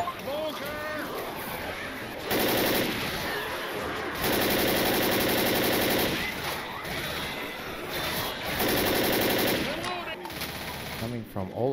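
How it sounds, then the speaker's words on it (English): Assault rifle fire in the Left 4 Dead zombie game bursts out in several sustained loud volleys, with shouting players talking over and between the shooting. "Assault rifle!"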